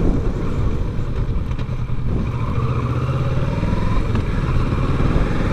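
Honda XRE300 motorcycle ridden along a rural road in Alagoas, Brazil, its steady engine drone close and loud, with a brief gear change or throttle shift midway.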